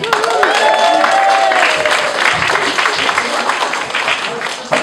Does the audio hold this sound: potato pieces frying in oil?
no